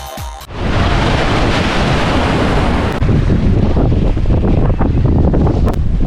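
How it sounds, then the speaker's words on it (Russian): Storm on the Laptev Sea aboard a boat: loud, constant wind roaring across the microphone with crashing waves and surf, sustained and close. "Море Лаптевых встретило экипаж штормом и шестибальными волнами."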